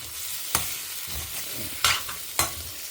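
Potato stuffing masala with garam masala sautéing in a pan for stuffed aloo capsicums: a steady soft sizzle with three sharp scrapes of a spoon stirring against the pan, no voices.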